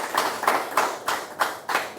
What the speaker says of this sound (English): Please clap for my guest.